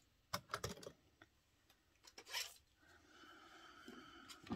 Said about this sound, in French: on va couper le petit carré. Donc, je prends mes ciseaux